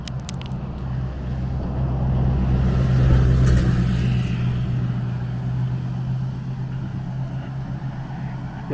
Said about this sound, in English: It was a diesel, like a F-250 or 350.